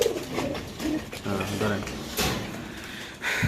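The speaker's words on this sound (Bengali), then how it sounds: "এনে আছে সবজি রেসার কবুতর ভাই বিশাল বড় সাইজের" Racing pigeons at a pigeon farm coo in a few soft, low bursts close by, mixed with scattered handling clatter and movement, with voices talking in the background.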